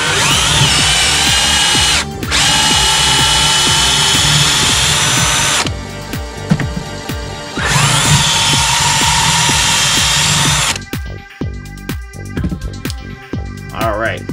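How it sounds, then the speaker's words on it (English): A loud power drill whines in long bursts while boring out a hole for a bromeliad, stopping and restarting a few times, with clattering handling noise in the pauses. "I'm going to go ahead and just bore this hole out a little bit more"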